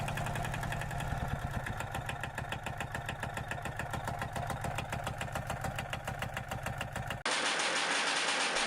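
A Soviet-era YUMZ tractor diesel engine, vintage and with a small fuel leak, runs steadily with a dense rapid knocking beat, loud and close, then cuts to a brighter hiss near the end.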